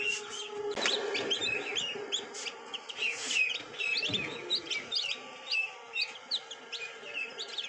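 Newly hatched desi (gavran) chicks in a village give repeated high, thin chirps and peeps. The calls are close, overlapping and continuous.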